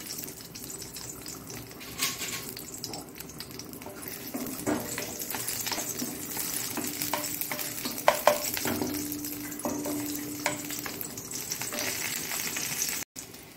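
Garlic frying in a pan for Mangalorean raw banana sambar, a steady close hiss of sizzling oil with occasional scraping stirs throughout.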